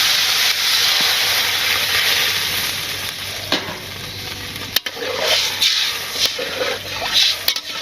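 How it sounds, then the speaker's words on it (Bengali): Broth poured into a hot pan of fried potatoes in a village kitchen hisses and sizzles loudly, the frying noise easing into softer bubbling with scattered stirring clatters and clinks. "এখন ঝোল দিয়ে দেবো।"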